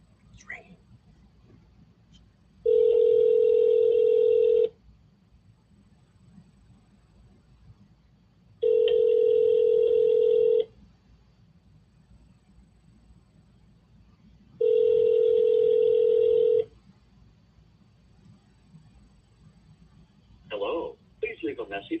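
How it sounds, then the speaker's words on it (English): Three long electronic ringback tones from an outgoing phone call, each about two seconds with long silent gaps between, followed by a brief burst of faint sound at the end as voicemail answers. "It's ringing."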